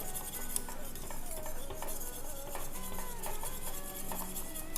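A spoon stirs miso into a pot of broth with the heat switched off, producing soft continuous scraping and light metallic clinks, faint and close, with no talking.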